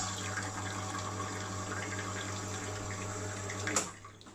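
A Victoria Arduino E1 Prima espresso machine flushes hot water in a steady, even rush with a low pump hum beneath, ending in a brief clunk as the flow stops.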